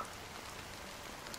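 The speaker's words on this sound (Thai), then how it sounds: "ฝนก็ยังไม่ยอมหยุดตก" Rain falling in Honkai Star Rail's Penacony, a faint, uniform pattering hiss with no voices, over in a moment.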